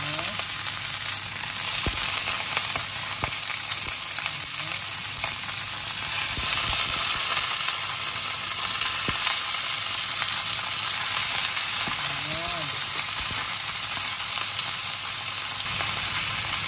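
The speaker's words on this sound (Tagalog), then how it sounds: "Iprito natin yung isda hanggang maging brown." Fish fries in hot oil with ginger, a dense, even sizzle that crackles on without pause for the whole stretch, close and fairly loud, with no voices.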